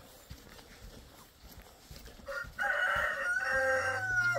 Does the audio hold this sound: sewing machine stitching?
no